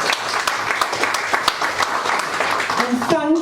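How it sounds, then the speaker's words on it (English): Warm applause from an audience at a book launch, steady clapping throughout with a voice starting to speak over it near the end. "Give yourself a round of applause"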